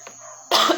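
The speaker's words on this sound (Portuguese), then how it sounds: "A tosse tá demais." A single harsh cough bursts out loudly after a brief quiet moment.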